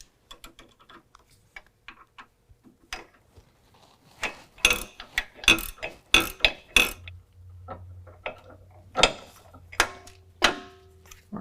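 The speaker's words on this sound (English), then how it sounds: "we're going to remove this nut with an 18 millimeter and hold this stud still" Wrenches working the nut off a sway bar end link on a 2018 Jeep JL two-door, with an 18 mm wrench on the nut and a 6 mm Allen key holding the stud. Sharp metallic clicks and clinks come in close bursts, with no talking.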